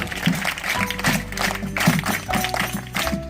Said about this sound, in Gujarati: આપણે તાળીઓના ગળગળાટથી અભિવાદન અને એમનો આભાર